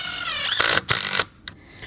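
A power driver with a T20 bit sinks a screw into PVC composite decking, a whirring run that rises in pitch, then two more short bursts and a brief click, close and loud with no voices.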